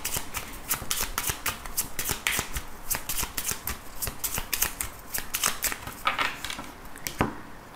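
A deck of tarot cards being shuffled up close, with a steady stream of crisp riffling flicks and slaps running throughout and no talking.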